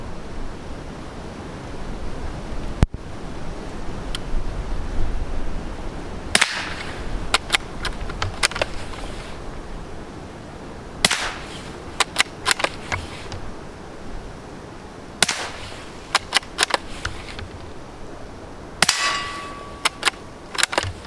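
A suppressed .22 bolt-action rifle fires single sharp, quiet cracks spaced several seconds apart outdoors, some followed by bright metallic clangs of steel targets being hit, with a faint ringing tone after one impact.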